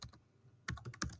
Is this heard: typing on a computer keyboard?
yes